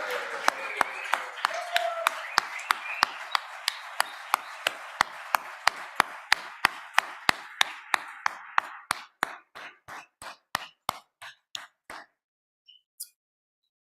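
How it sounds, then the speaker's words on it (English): Applause on a legislative house floor during a session: brisk, evenly spaced claps ring out in a large chamber, then thin out and stop, with a few last stray claps. "let's give her a round of applause"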